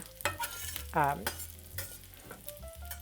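Risotto cakes pan-frying until golden brown in a kitchen, a soft steady sizzle broken by a brief tonal squeak and a few light knocks and scrapes of utensils close by.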